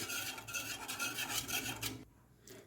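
Thick rice flour dough for papad being stirred continuously in a pan, giving a steady close rasping and scraping that stops abruptly near the end.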